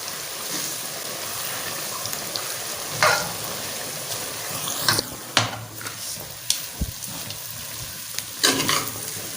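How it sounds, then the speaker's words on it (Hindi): Semolina for halwa roasts and sizzles in a pan while a spoon scrapes and stirs it briskly, with occasional louder clanks against the metal and no talking. "और तेज़ हाथ से इसको जो है मिक्स करते रहना।"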